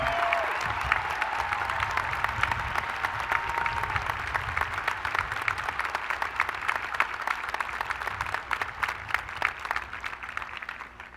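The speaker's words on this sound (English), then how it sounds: "let's give them a warm round of applause for our new second lieutenants" Sustained applause from a large audience at a university fall commencement ceremony honouring newly commissioned second lieutenants, a dense steady patter of many hands clapping throughout with no talk.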